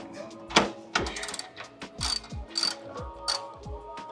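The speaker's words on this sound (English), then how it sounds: "we're gonna remove these 2 bolts holding in the bracket. We need a 13mm socket and go to work" A ratchet with a 13mm socket clicks in quick bursts while backing out the bracket bolts on an MK7 GLI during a downpipe install, with short pauses between strokes and a few metallic clanks.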